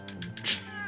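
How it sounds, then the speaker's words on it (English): A cat in the video game Fate/Samurai Remnant meows while being petted, a single short rising-then-falling meow, close and clear, heard alone without talk. "Mash to pet cat."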